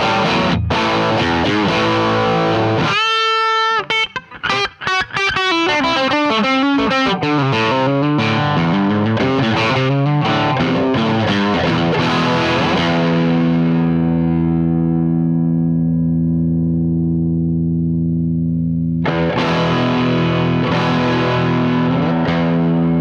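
Electric guitar through a Vox AV30 modelling tube amp on its OD1 plexi-style overdrive, loud crunchy chords and riffs played close, then a long sustained chord ringing out before a final strum.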